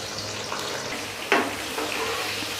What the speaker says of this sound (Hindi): और अब इसमें मैंने ये डाल दिया प्याज।